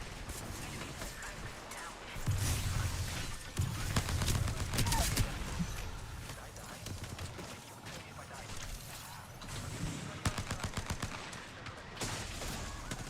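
Rapid bursts of video game gunfire crackle through the whole stretch, with clusters of shots near the start and again toward the end, while players talk over the action.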